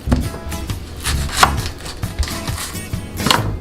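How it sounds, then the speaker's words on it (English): A knife chops an onion on a cutting board, with several close, uneven strokes and no talking. "Now we're going to start chopping up the vegetables."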